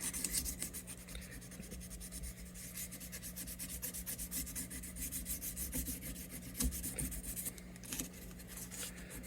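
Bone guitar saddle rubbed by hand across 600 grit sandpaper during an acoustic Yamaha FG9 setup, a steady close scratchy sanding texture with a continuous low hum underneath.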